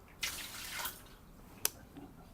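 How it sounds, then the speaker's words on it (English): Water dumped out of an Espro Press coffee brewer splashes in a short burst, followed by a faint trickle and a single sharp clink or splash; quiet and close. "I'm going to dump out our water"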